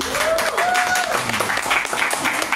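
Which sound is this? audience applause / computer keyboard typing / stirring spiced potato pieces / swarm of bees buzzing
audience applause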